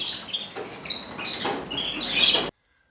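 Zebra finches chirping close by, a busy run of short high tweets and calls overlapping one another before stopping abruptly.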